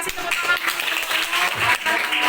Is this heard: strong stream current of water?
no